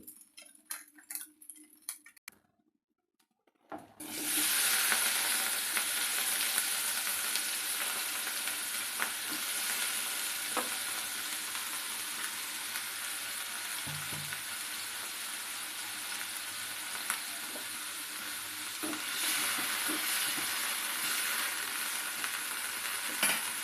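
Chopped tomatoes sizzle steadily in a spoonful of oil in a pan for a coriander and peanut chutney, a loud continuous frying hiss that starts after a quiet moment and carries on with occasional stirring clinks.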